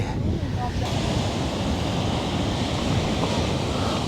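A constant roar of surf and wind washing over the microphone, loud and unbroken, with no distinct individual waves standing out.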